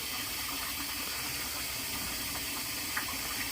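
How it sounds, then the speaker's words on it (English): Water runs steadily from a tap into an animal's water container being refilled after scrubbing, a continuous soft gushing rush at close range with no talk. "So getting it filled back up."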